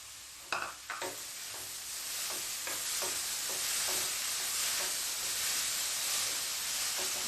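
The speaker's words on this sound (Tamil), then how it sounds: "ஸோ நல்லா இதை வதக்கி விட்டுடலாம்." Okra sizzles in a pan while being sautéed, with a steady frying hiss under a few scraping strokes of a spoon near the start.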